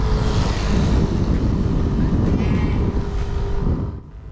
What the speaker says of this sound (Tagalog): ang lakas po ng hangin dito sa amin